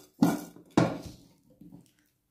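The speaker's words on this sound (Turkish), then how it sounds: "Şimdi de ağzını kapatıyorum. Ve şöyle iyice karıştırıyorum." Food being stirred inside a closed container, heard as two sharp clattering rattles followed by a softer third shake, close and loud with no talk.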